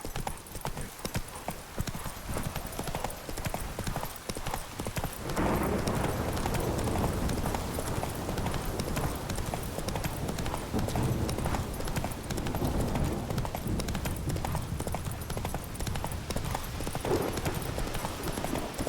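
Roach the horse clip-clops steadily at a brisk pace over ground in The Witcher 3, a dense, close, continuous rhythm of hoofbeats that carries on throughout.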